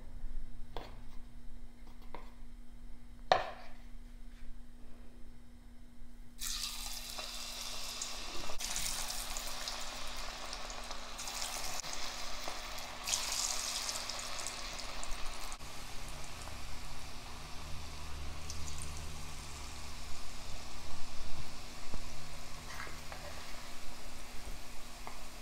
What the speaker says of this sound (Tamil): இப்போ காலிஃப்ளவர் நல்லா கிறிஸ்பியாக ஃப்ரை ஆயிடுச்சு.